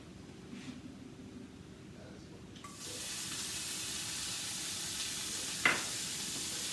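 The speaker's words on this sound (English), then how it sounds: "you want to get that nice sizzle and you get that pan hot first" Bacon in a hot skillet: after a quiet start, a steady bright sizzle suddenly rises and keeps hissing, with one sharper crackle pop near the end.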